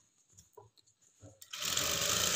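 A sewing machine stitching a lined cotton blouse starts after some soft handling noises, then runs in a fast, continuous whirr up close.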